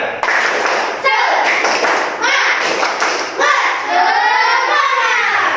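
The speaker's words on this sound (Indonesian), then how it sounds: "Yang keras sekali lagi, tepuk semangat." A school class claps in loud rhythmic bursts, sharp hand claps in repeated rounds with short pauses, children's voices mixed in between.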